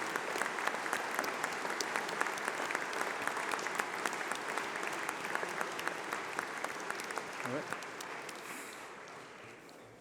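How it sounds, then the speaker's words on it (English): Sustained applause at a UCLan university graduation ceremony honouring course reps and school presidents, dense crowd clapping that fills the hall, then gradually thins and fades toward the end. "please stand up as we give you a round of applause,"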